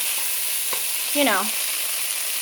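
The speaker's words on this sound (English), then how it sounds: "you're going to let your beans and your meat kind of cook together for a minute or so" Ground sirloin and beans frying together in a pan for gluten-free chili, a steady close hiss of sizzling throughout with a brief scrape of a utensil partway through.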